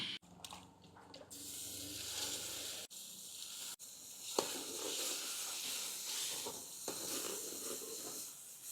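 Boiled dal poured into a hot pan of fried onion-tomato masala with red chili, coriander powder, turmeric and salt, a close, steady hissing sizzle with a few sharp clatters and splashes over the whole stretch, no talk.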